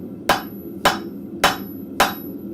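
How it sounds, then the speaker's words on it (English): A rounding hammer strikes hot scrap metal at a blacksmith's forge, four loud, evenly spaced ringing blows close by with no talking. "work this down almost as much as I'm willing to with a rounding hammer"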